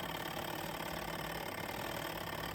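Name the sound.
SUPER DEAL small portable washing machine running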